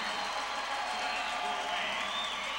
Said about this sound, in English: And the crowd starting to rock a little bit.